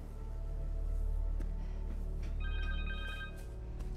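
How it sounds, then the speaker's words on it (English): A cell phone rings in the Marvel's Spider-Man 2 video game, a thin electronic ringtone over a low steady hum that grows clearer toward the end. Nobody talks. "Connors' cell phone."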